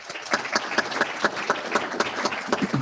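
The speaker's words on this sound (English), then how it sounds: "Let's give them a round of applause." A room of attendees at the 2021 Minnesota East Metro Development Summit applauds after a presentation. The clapping is dense and moderately loud, a continuous crowd patter that holds steady for a few seconds with no talking.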